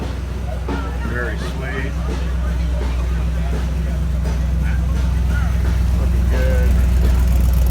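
A hot rod engine runs at a speed shop open house, a steady low rumble that swells slightly, with people chatting nearby over it.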